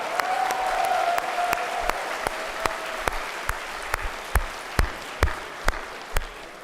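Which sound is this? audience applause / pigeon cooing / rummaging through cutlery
audience applause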